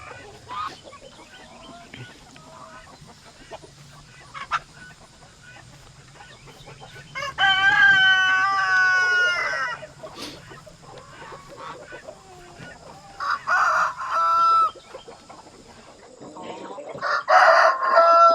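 On a farm, chickens cluck steadily in the background while a rooster crows loudly in several bursts, both close and farther off, with a voice occasionally heard faintly.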